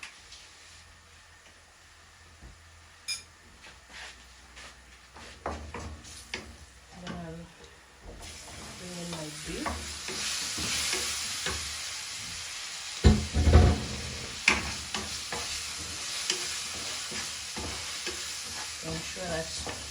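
Onions and spices frying in a pot for Kenyan matoke are stirred, giving a steady sizzle with scraping and clinking from the spoon. The sizzle grows louder and busier partway through and keeps going alone.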